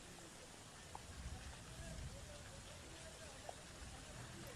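Torrential rain falls on a rural area of Abdasa in Kutch, Gujarat, a dense, even hiss of drops that stays steady and fairly faint throughout.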